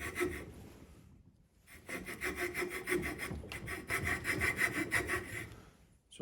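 A hand saw cuts the bottom profile of a small wooden miniature White-breasted Nuthatch ornament, making steady rapid rasping strokes in two bursts separated by a short pause, close up and with no talking.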